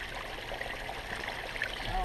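Steady rushing of running water close by, a continuous trickling stream with faint voices in the background.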